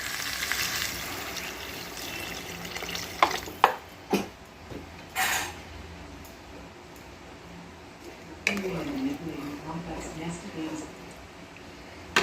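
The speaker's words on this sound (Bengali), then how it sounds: "পরিমাণ মতো জল দিয়ে দেব।" Water goes into a pan of frying rohu fish curry while it is stirred, bringing soft sizzling and sharp scraping clatters of a spoon against the pan, with someone talking over parts of it.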